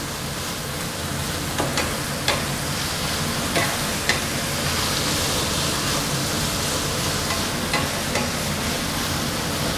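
Morning glory and bacon stir-fry in a pan with a steady, dense sizzle throughout, loud and close. Occasional light scrapes or taps of the utensil break through the frying.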